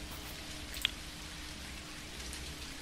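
Rain falling in the video game Dinkum, a faint continuous patter with one brief drip-like tick, soft and even throughout with no talk.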